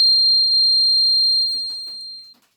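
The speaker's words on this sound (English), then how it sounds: "whenever the answer is right, there will be light and buzzer" Homemade quiz project buzzer for a right answer gives a steady, thin electronic tone that holds for about two seconds, then fades and stops, with faint scattered clicks around it.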